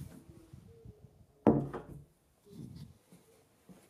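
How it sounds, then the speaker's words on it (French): A second door swings shut with a sudden close thud and short wooden rattle, followed by faint shuffling and quiet room noise. "Je ferme la deuxième porte."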